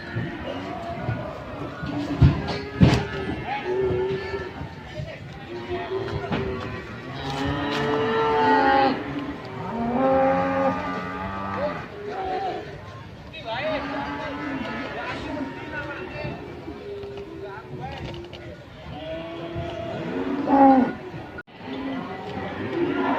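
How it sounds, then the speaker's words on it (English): Large, tall zebu cattle moo repeatedly and loudly at a busy livestock breeding market in Yogyakarta, Indonesia, with crowd chatter and voices mixed underneath throughout. "this is one of the example of very big and tall cows, which is called zebu"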